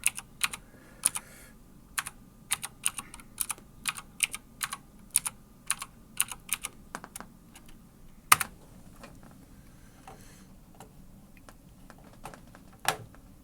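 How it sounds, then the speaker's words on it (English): Rapid bursts of typing on a computer keyboard, close and crisp, with irregular clusters of keystrokes and short pauses, one louder key strike midway, no voices. "Let me get that all typed in here."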